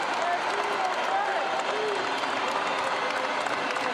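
Arena crowd celebrating the Los Angeles Lakers winning the Western Conference over the Denver Nuggets, a dense continuous wall of applause and cheering with voices rising through it.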